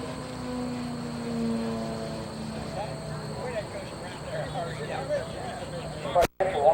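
An electric model airplane with retractable landing gear at an airshow gives a steady faint whine overhead, while a commentator talks over it and a sharp click cuts in near the end.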